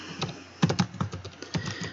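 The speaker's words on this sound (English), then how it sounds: "I'm going to type sudo apt-get update." Keys clatter on a computer keyboard as a terminal command is typed, a close, irregular run of quick clicks and taps over a low background hum.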